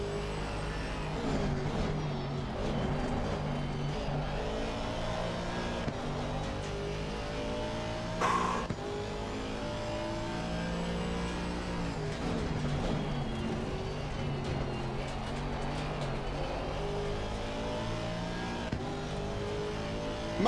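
Race cars in Assetto Corsa Competizione accelerating, a continuous layered engine roar with shifting revs and gear changes. Several cars are heard at once, sustained at moderate level for the whole stretch with no voices.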